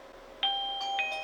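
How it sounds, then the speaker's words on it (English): An indoor doorbell chime plays its standard tone, two clear ringing notes close together that fade out in a quiet room. "And then you're going to push the doorbell."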